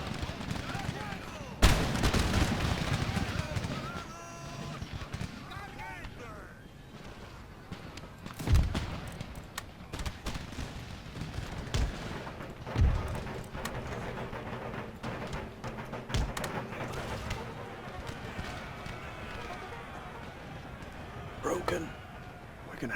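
Musket volleys crackle in Empire Total War during a battle with Spanish marines, sharp reports bursting at irregular intervals over a dense battlefield din, with some louder cracks standing out and talk nearby.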